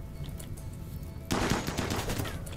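RimWorld colony combat gunfire: a sudden burst of rapid shots about halfway through, loud against a quiet ambient game background, trailing into scattered fainter reports.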